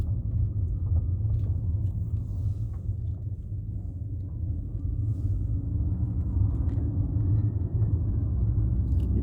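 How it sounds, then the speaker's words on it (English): Steady low engine and road rumble from inside a Mercedes-Benz C180 cruising on a New Zealand highway, a continuous even drone with faint tyre noise and no talking. "I'll take you along for a little ride in the C180."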